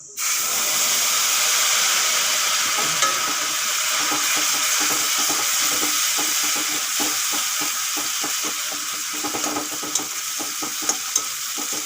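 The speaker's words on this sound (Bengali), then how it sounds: "তেল গরম হয়ে গেছে ফোড়নে দিয়ে দেবো জিরা আর দিয়ে দেবো কিছু কারি পাতা" Loud, steady sizzling of cumin and curry leaves frying in hot oil, a constant hiss close up with occasional stirring scrapes and pops.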